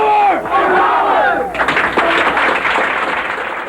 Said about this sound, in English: gets the biggest applause from the room full of young admirers